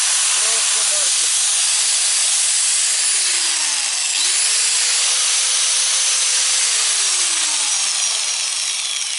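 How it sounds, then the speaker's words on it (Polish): An angle grinder, tested after its brushes are replaced, whirs with a loud, steady high-pitched hiss, its motor tone sliding up and holding before winding down. "Teraz przystąpimy do testu. Zobaczymy, czy szlifierka działa."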